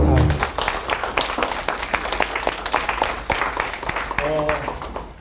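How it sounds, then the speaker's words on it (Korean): An audience at a church lecture on Christian worldview gives the lecturer a round of applause. Many sharp claps patter near and fairly loud, with a voice speaking briefly at the start and again near the end. "우리 소나무 집사님 다시 한번 큰 박수하고"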